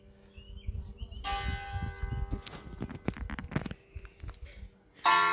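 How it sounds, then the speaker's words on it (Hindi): A church bell rings the hour in the Austrian countryside, several clear, resonant strikes with a lingering hum, heard from a distance amid light outdoor clatter and faint voices. "ये देखो एक घंटे बाद इतने घंटी बजती है"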